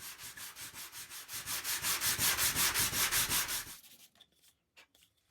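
Burnt steel parts are sanded by hand in quick, even back-and-forth strokes, a rhythmic raspy scrubbing that runs close and steady for several seconds before stopping, leaving a few faint knocks.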